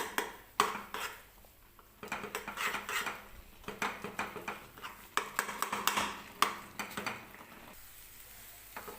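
Semolina is stirred into water in a pot with a spoon, giving soft irregular scraping and clinking strokes against the metal, close and fairly quiet, with no talking.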